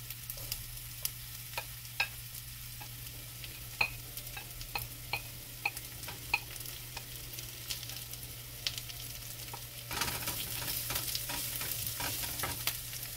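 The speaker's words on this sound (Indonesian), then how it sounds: "Aduk-aduk ya sampai semuanya berubah warna" Shallots frying and being stirred in a pan, a steady faint sizzle broken by scattered light clicks and scrapes of the utensil, louder and denser toward the end, with no voices.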